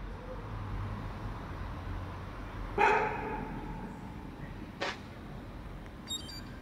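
A single dog barks at a dog playground beside a tall flak tower, a short sharp burst at middle distance followed by a fainter second bark, over steady outdoor traffic hum.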